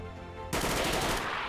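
Sudden loud burst of automatic gunfire in XCOM 2, a dense rapid volley that cuts in after a quiet half second and rattles continuously to the end, close and alone.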